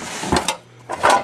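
A frying pan is handled among boxed items in a storage unit, giving two short bursts of knocks and scrapes separated by a brief quiet gap, close and fairly loud.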